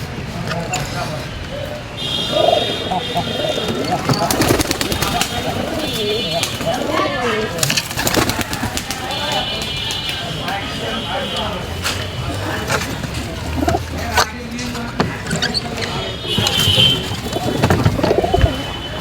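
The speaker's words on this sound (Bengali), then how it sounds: "সকালবেলা আমার সব কবুতরকে এখন খাবার দেব" Pigeons at their morning feeding, with low cooing and fluttering bursts mixed with busy knocks and scuffles nearby, a person talking over them at times.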